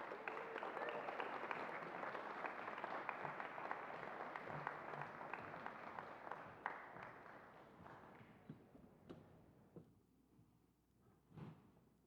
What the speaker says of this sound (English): a round of applause and welcome President Mike Fitz and Brett Hurt to